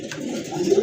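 A kaldam pigeon from a pair offered for sale gives a short, soft, low coo, close by and alone.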